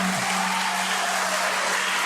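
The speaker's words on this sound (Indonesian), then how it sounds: "Kita tepuk tangan dulu ya." A church congregation applauds during a Mass installing a parish pleno council, producing a dense, steady wash of clapping that stays loud and even from start to finish.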